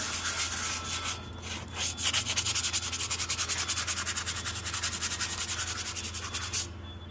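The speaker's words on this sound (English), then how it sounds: "You hit a sander to that, good to go." Rust is sanded off a metal go-kart seat, making a loud, rapid rhythmic rasping scrub of back-and-forth strokes close by, with no talking.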